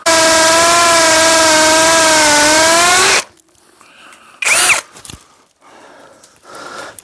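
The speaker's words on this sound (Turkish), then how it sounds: "şöyle alttan bir güç uygulayarak delmeye çalışacağım." A loud, steady whining power drill bores into a ceiling, apparently hitting steel rebar, running continuously for about three seconds, then stops, followed by faint scraping and a brief burst of noise.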